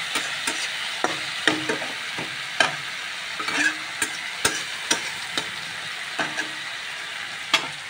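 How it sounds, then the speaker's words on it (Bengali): Fish fries in a pan with a soft background sizzle, broken by sharp, spaced knocks and scrapes of a spatula, close and fairly quiet, with no voices. "এদিকে মাছ ভাজা হয়ে এসছে"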